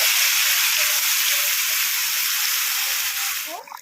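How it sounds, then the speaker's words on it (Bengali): Coconut, cashew and ginger paste hits hot oil for a Bengali potol posto, giving a loud, steady, close broadband sizzle that holds evenly before thinning and breaking up near the end. "দেখুন এই গরম তেলের মধ্যে এই বেটে রাখা নারকেল, কাজু, আদা এটাকে আমি আস্তে আস্তে দিয়ে দেবো"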